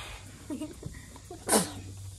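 A single sharp sneeze bursts out near the end, following quiet, indistinct murmuring.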